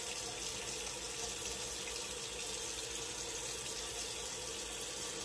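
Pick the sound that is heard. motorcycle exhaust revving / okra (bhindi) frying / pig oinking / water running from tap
water running from tap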